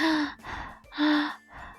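A voice imitates a tired runner's gasping, with two loud, breathy intakes of air, each followed by a softer exhale, in a close, heaving rhythm.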